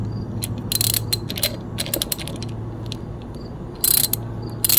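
A 10mm bolt being unscrewed on a QS138 hub motor, heard as a run of sharp ratchet clicks in bursts, close and fairly quiet, with no talking.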